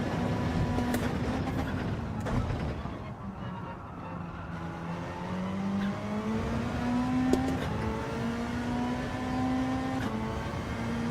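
A racing car engine in a time trial drones at high revs, pitch sweeping up and down through gear changes and corners, close and continuous with little talk.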